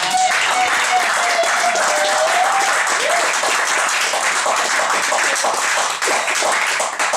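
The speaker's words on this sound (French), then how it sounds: "Est-ce qu'on peut acclamer pour nos frères?" A church congregation applauding and cheering for visiting brothers, a steady, loud wash of clapping from many hands with raised voices blended in, sustained throughout.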